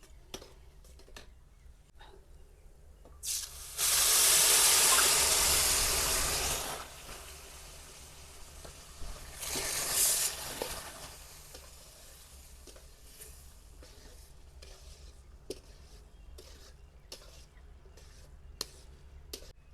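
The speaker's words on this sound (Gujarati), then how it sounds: "હવે આપણે આ દૂધ નાખી દઈએ." Milk poured into roasting semolina for sheera in a village kitchen, a loud hissing sizzle bursting up for a few seconds, a second shorter burst, then quiet stirring and scraping clicks.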